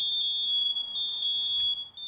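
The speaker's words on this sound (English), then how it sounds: "But the ionization alarm didn't go off until more than a minute after the photoelectric." Smoke alarm sounding during a smoke test comparing ionization and photoelectric alarms, a single continuous high-pitched electronic tone held loud and steady throughout, with no speech.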